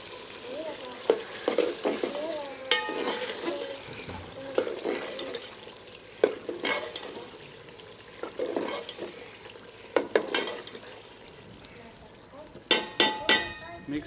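Masala and brinjal are stirred and fried in a pan while making baingan bharta. Steady sizzling runs throughout, broken by repeated scrapes and clinks of the spoon against the pan, with occasional faint voice.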